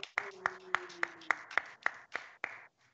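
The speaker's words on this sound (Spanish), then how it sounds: "¡Un aplauso para él!" About ten slow, evenly spaced hand claps from a small group, faint and sparse, welcoming a guest at a disability organisation's interview segment, with a low hum beneath.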